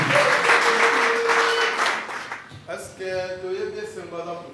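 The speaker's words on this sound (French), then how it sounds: "nous donnons l'acclamation dans le nom de Jésus" A church congregation claps and acclaims as a speaker comes forward, a dense burst of applause that fades and gives way to a voice talking.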